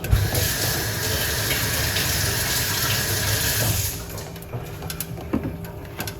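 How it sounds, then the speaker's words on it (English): Running tap water pours steadily over a piece of ginger being washed under a faucet for about four seconds, then stops, leaving light handling clicks and drips in a quiet room. "wash off that ginger"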